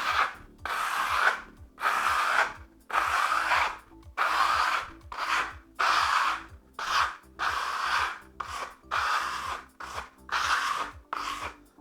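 A trowel working a second coat of microcement, a sequence of about a dozen even rasping strokes across the surface, each lasting under a second with brief pauses, close and fairly quiet.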